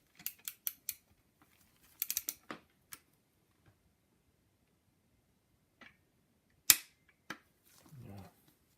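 A torque wrench tightens a timing chain guide bolt on a BMW N54 engine during a rebuild, giving sharp, faint, close clicks in quick bursts, then a louder snap and a few scattered ticks.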